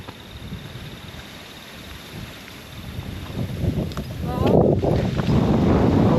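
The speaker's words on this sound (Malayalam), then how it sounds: "കാറ്റടിക്കുമ്പോ" Wind blows hard across the microphone at the hilltop Vaamala Ayyappan temple, a steady roaring rumble that builds and grows louder in the last couple of seconds.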